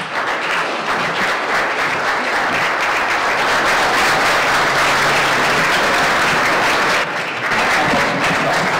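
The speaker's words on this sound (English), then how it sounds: "Please let's welcome him with a round of applause." A loud round of applause fills a luncheon hall as a speaker is welcomed to the podium, thick continuous clapping from a large seated crowd that dips briefly near the end before swelling again.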